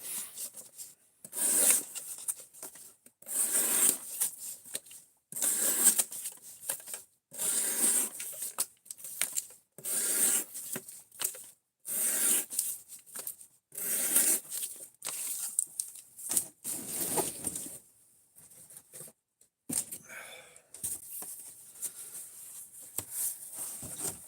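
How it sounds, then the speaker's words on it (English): A knife blade being drawn across the stones of a Work Sharp Precision Adjust Professional fixed-angle sharpener, giving repeated rasping strokes about every two seconds, close and fairly quiet, with brief pauses between passes. "I've got a Work Sharp Precision Adjust Professional fixed angle sharpener"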